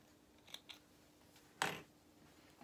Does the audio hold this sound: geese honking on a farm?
no